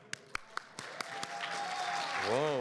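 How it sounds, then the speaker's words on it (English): A few scattered claps build into audience applause at a live Pokémon event at PAX East 2022, with a sustained whistle-like tone and a brief voice rising near the end. "Round of applause, everyone."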